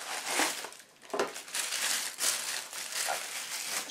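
Tissue paper crinkles and rustles continuously up close, with soft crunching handling noises and no talking.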